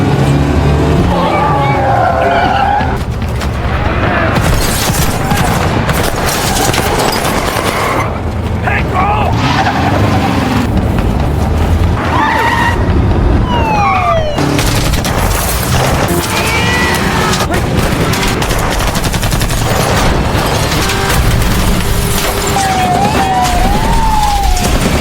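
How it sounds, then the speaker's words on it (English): Car chase from the 2020 action crime thriller Deliver Us From Evil: loud, dense engine roar, tyre skids and impacts run almost continuously, with a siren-like rising tone and brief bursts of gunfire mixed through the chaotic scene. "Kim tried to turn around to avoid Ray's shot"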